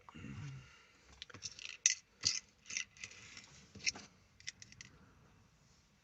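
Scissors snip through fishing line while a Bombarda float rig for bass is set up, giving several short, crisp close cuts with quiet gaps between them.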